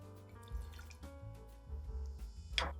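Campari is poured into a jigger or glass for a cocktail, a quiet, close liquid trickle with small dripping and splashing accents and a brief bright clink near the end.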